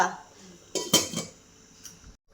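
A utensil scrapes the bottom of a pan of egg and dried fish curry, with a few sharp metallic scrapes and clinks in quick succession, close and clear over a faint simmer.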